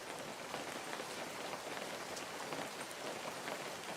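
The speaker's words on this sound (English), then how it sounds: "Sorry about the rain. It's probably loud." Continuous rainfall drumming on surfaces nearby, a fine, uniform hiss of many drops at moderate-to-low loudness, heard alone without talk.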